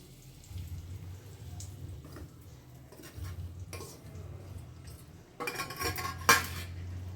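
Ground masala being stirred into bitter gourd (kakarakaya) curry in a pan: quiet scraping and clinking of a spoon against metal in irregular strokes, close up, with a sharper burst of clattering near the end and no talking.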